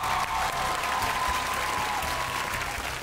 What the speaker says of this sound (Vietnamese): Một tràng pháo tay ạ.